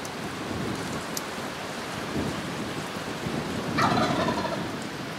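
A wild turkey gobbles in response to a hunter's call from close by, a single rattling gobble rising over steady outdoor wind or rain noise, with no voices.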